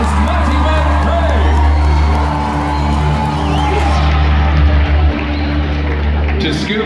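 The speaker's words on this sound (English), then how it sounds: "My lords and ladies, a mighty cheer for Don Matteo, and Athena" A Medieval Times audience cheers and whoops at the falconry show, a loud, sustained crowd roar mixed with shouting voices and scattered claps.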